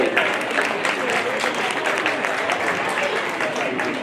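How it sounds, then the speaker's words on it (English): An audience at a county fair hog showmanship event gives the show judge a round of applause, with dense, steady clapping that stays loud and continuous throughout. "We'll give him a round of applause real quick"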